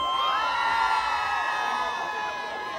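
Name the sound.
ladies screaming and cheering at live radio event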